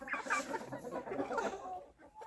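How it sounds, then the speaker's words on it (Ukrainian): Hens in a pen cluck and chatter softly at close range, a busy overlapping murmur of bird calls with no clear speech. "Ось в загоні в мене знаходяться курочки"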